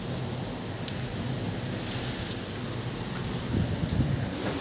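Steady rain falls outdoors near Mapua University, a dense even hiss on surfaces with occasional sharper drop hits and a faint low rumble, no talking.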